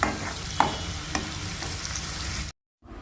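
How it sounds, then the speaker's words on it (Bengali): Garlic and green chilli frying in a pan, a steady close sizzle with a few sharp stirring clicks, ending abruptly in silence before faint noise returns. "এবারে এটাকে হালকা করে ভেজে নেব।"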